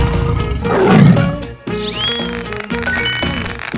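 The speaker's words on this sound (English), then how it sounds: "tiger," Tiger roaring in a cartoon animal sequence, one rough roar swelling in the first second and a half before music takes over.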